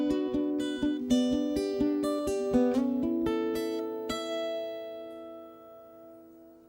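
A guitar plays a few measures: a run of clear, plucked notes in a quick, even rhythm, ending on a chord that rings out and slowly fades, close and alone without talk.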